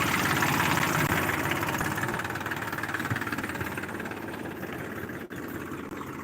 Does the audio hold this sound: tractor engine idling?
yes